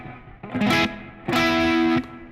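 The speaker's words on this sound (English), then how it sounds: "Let's try a plate reverb." An electric guitar played through a plate reverb effect, with two loud sustained strums separated by a short gap, each ringing with a bright, dense wash and cutting off cleanly.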